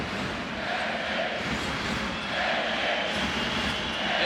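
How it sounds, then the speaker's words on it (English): Arena crowd at a Latvia versus Estonia Eurobasket 2015 basketball game, a loud continuous roar of many voices swelling into a chant, heard from within the crowd with no clear single speaker. "Esti, the cry from the crowd."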